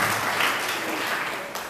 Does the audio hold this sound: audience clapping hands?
yes